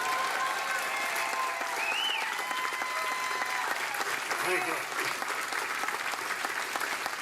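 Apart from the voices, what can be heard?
audience applause at Veterans Day observance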